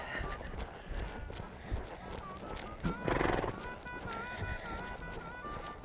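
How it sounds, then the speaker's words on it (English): A mare being trotted on a big circle under saddle, hoofbeats thudding in a steady rhythm beneath a high whinny and ongoing background noise, with a louder burst of movement midway. "let's go out on a big circle and pick up the trot"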